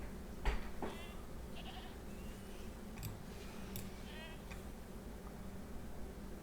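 Goat bleats in the video game Big Shark Is Life, a few wavering cries over a steady low game soundtrack, moderately faint and spread across the moment.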